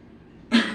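A person coughs once on request, a short loud burst after a quiet pause, close to the microphone.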